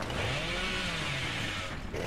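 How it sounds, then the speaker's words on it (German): Leatherface's chainsaw revving in Dead by Daylight, a loud, continuous buzzing engine drone that wavers slightly in pitch throughout, with nothing else over it. "Also man kann seine Kettensäge jetzt viel länger einsetzen."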